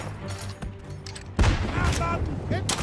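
Explosions from an artillery barrage in the World War I game Isonzo, a heavy boom landing midway followed by rumbling, crackling blasts and gunfire; a voice talks during it.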